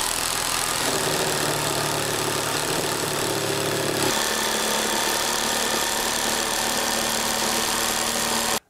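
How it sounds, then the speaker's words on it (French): A jigsaw with a sharp blade cuts curved shapes in wood for a chair, its motor whining steadily with a shift in pitch midway as the blade loads, running loud and close before stopping abruptly. "il me suffit de réaliser toutes les découpes à la scie sauteuse avec une lame bien affûtée quand même"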